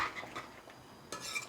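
A pot of fried potato curry being mixed, with several metal spoon scrapes and clinks against the pot, a quiet pause in the middle, then a louder burst of stirring at the end.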